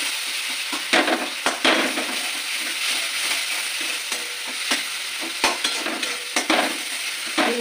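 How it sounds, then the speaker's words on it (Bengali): Ginger, tomato and spices fry in a pan for a lota fish curry, with a steady sizzle broken by repeated sharp scrapes and clacks of a spatula stirring close up, and no voices. "আদা দিয়ে মশলাটা ভালোভাবে কষিয়ে নেবো।"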